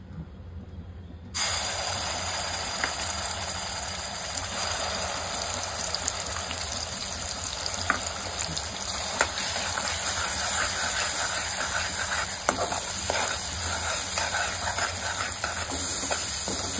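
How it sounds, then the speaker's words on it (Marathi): Masala sizzling in hot oil in a kadhai as tempering for a Malvani-style shark fish masala, a sudden loud, steady frying hiss that starts after a brief quiet moment and carries on with small crackles. "कढईमध्ये तेल घालूया आणि मसाला आता आपण मुशीसाठी फोडणीला घालूया।"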